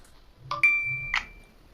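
A Vestel Venüs 5000 Android phone powering on, playing a short bright chime of a few ringing tones that ends within about a second, clean and close with no talk.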